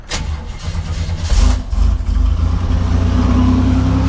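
A 1987 Buick Turbo T running on E85 with 50,000 miles cranks briefly and fires up, then settles into a loud, steady close idle with a deep rumble.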